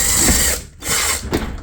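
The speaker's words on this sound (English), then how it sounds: "I'm just going to drill that in really easy" An impact drill drives a hex head self-drilling screw into a garage door, two loud close bursts of whirring and rattling with a short pause between them.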